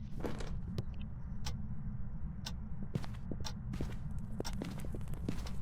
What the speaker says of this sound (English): I just needed to hear the footsteps before I did the smudge.